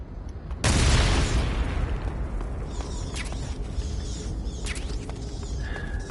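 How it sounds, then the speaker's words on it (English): Stun grenade in the video game Metal Gear Solid 3, a single sudden loud blast that rings out and decays slowly into a lingering rumble with faint creaks. "Let's just pick up the grenade and kaboom"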